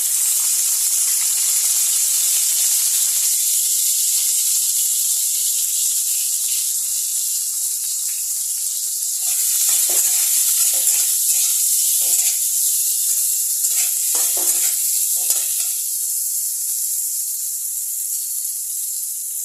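Fenugreek seeds tempered in hot oil give a sharp, continuous high hiss and sizzle close by, steady and loud throughout, with faint stirring clicks and spatters breaking through partway.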